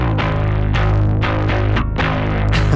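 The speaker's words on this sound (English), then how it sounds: "My favorite thing about this bass is that I am actively clipping the crap out of it." Heavily clipped, distorted bass runs continuously through a dense electronic music mix, sidechained to the drums so it pumps rhythmically, loud and saturated throughout.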